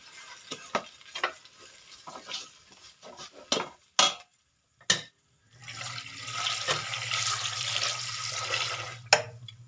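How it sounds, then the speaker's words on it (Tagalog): Corn pours into a pot of sautéed garlic, onion and chicken, giving scattered clinks and scrapes of stirring followed by a steady, soft sizzle and simmer as the kernels hit the hot pan. "Ibubuhos ko na yung mais dahil nagisa na yung bawang at saka yung sibuyas at saka yung manok."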